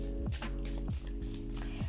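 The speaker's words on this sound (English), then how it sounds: "look at these cards, connect with them as I shuffle" Tarot cards riffle and slap together in quick repeated shuffles, close and crisp, over a low steady hum with no talking.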